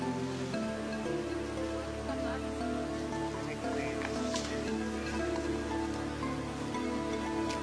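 Steady rain patters down without a break, a dense hiss with faint sustained tones underneath.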